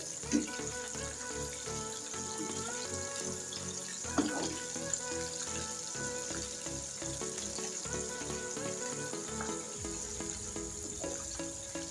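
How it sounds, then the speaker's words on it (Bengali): Oil sizzling and crackling steadily as Korean-style chicken fries on low heat in a pan, with occasional clinks and stirring noises. "এখন আমি চিকেনগুলো একদম লো ভেজে উল্টে পাল্টে ভেজে নিতে হবে"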